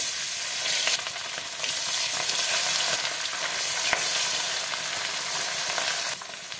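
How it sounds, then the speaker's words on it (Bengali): Steady, loud sizzling of bata fish frying in hot, smoking mustard oil, with crackling bursts throughout and no talking. "সব মাছগুলোকে আমি এপিট উপিট করে লাল করে ভেজে নেব"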